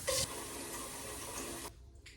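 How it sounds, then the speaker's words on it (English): Tap water runs steadily into a pot for a simmer pot, a continuous gushing flow that cuts off near the end. "Now you're going to fill up your pot, I would say 3/4 of the way full."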